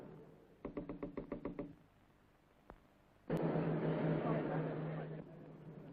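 Knocking at a front door: a quick series of about eight sharp raps, fairly close and distinct, followed by a brief pause and then a burst of broad noisy rustling.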